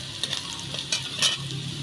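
Flattened rice and spices, including dry chilli powder, fry in a pan with a steady close sizzle. Light scraping from stirring runs through the short clip.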